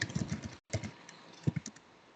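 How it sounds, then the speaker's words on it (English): Keys clatter on a computer keyboard while Verilog code is entered in the GVIM editor, a close, fairly loud run of clicks and taps with a short gap before a second flurry that fades toward the end. "The next line I am typing"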